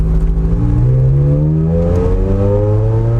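A Ferrari Challenge Stradale engine with F1 transmission roars loud and close, its pitch climbing steadily under acceleration, then dropping as a quick gear change hits before rising again, with no one speaking.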